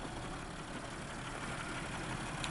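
A 2005 Buick Century's 3100 V6 engine idling smoothly, a low steady hum with a faint even rumble, close by and unchanging throughout.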